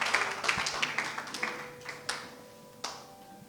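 A church congregation claps for the Lord in a series of sharp, separate claps that thin out and fade to a few scattered ones, close and reverberant.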